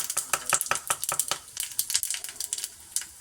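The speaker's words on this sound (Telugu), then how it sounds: "ఫ్రై చేస్తాము. ఫ్రై చేసి సీజనింగ్ చేయాలి." A tempering of fennel, urad dal, hing and red chilli fries in hot oil with bright crackling spatter and quick stirring scrapes, close and busy over about three seconds.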